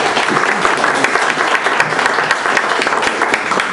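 An audience claps at a literary almanac book promotion event, a dense, lively round of applause with sharp individual claps standing out, continuous throughout.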